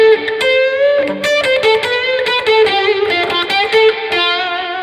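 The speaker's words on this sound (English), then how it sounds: "I have a slight distortion pedal on, but I also have an automatic wah or an octave wah" Electric guitar played through a slight distortion pedal and an octave auto-wah, giving a tone of loud, close sustained notes and quick phrases with a sweeping filtered, octave-doubled edge.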